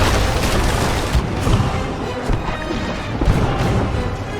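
In the Sea of Thieves video game, ship cannons fire during a naval battle, with a dense wash of heavy booms and crashes overlapping continuously, loud and rumbling with no clear gaps.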